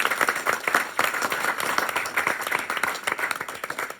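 Dense, steady applause from an audience at a panel discussion on Black farmers in America, many hands clapping at once, close and sustained for the whole stretch with no talking over it.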